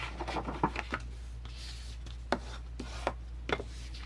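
Paper for a Minnie Mouse mini album is scored along a board in a series of short, close scraping and tapping strokes, irregularly spaced over a few seconds with a low hum underneath.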